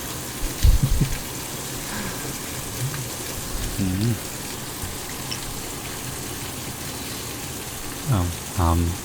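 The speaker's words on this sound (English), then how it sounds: "There's some very heavy rain." Heavy storm rain pours down in a dense, continuous hiss of drops on surfaces nearby, while a soft voice murmurs briefly at moments over the downpour.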